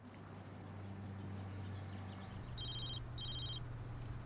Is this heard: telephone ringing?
yes